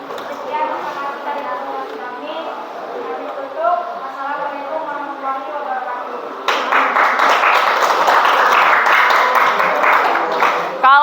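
A classroom audience applauds a group's presentation, with the clapping rising suddenly to a loud, dense burst after a stretch of students chattering and talking.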